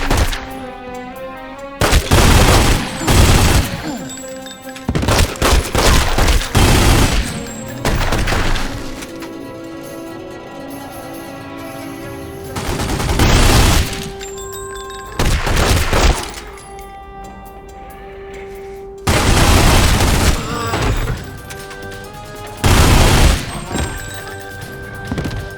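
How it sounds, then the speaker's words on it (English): Bursts of gunfire in the video game The Godfather: The Don's Edition, several loud broadband cracks and volleys spread through the stretch, with game music and voices running underneath and between the shots. "Wait, where's the shots coming from?"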